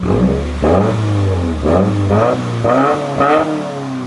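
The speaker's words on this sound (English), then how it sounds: "Do you want to maybe like give it some revs?" A modified Subaru WRX engine revs repeatedly, rising and falling in four or five strong throaty pulses, loud and close.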